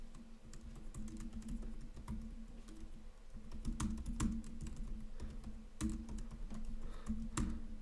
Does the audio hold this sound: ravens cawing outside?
no